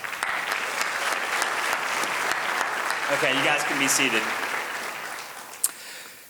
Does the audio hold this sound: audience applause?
yes